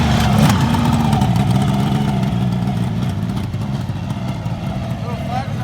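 A 1972 Kawasaki H2 750 motorcycle engine idling close by, a loud steady two-stroke putter with a brief blip at the start, continuous throughout.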